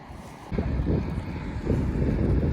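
Strong wind gusts buffet the microphone beside a river at a fishing spot in Pabna, Bangladesh, a steady low roar that swells louder in waves, with no talk over it.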